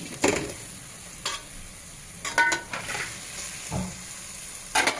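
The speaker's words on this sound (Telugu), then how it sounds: "ఇప్పుడు మనం ఉడికించి కట్ చేసుకున్న బేజాన్ని ఇందులో యాడ్ చేద్దాం" Cooked, cut beja pieces are stirred into a pan of frying spices with pepper powder, giving a low steady sizzle broken by intermittent scraping stirs of a spoon against the pan.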